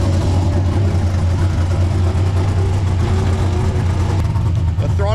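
A drift car's engine holds a steady, high idle, about 2100 rpm from a slightly tight throttle cable, droning loudly and continuously at close range while people talk over it.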